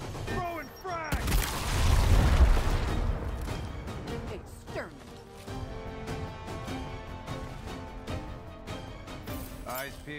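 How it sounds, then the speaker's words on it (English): A frag grenade explodes in Gears Tactics: a loud, deep burst lands after a second and rumbles for about two seconds, followed by scattered impacts, clicks and battlefield effects, with voices talking at times. "Throwing frag."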